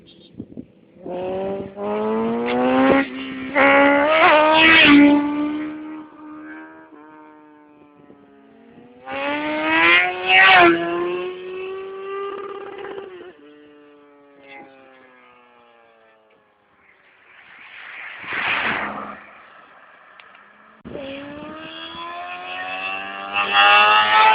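A Honda CBR motorcycle revs hard in loud, rising bursts, its engine pitch climbing and falling through gears before it pulls away and fades, then another rising rev returns near the end.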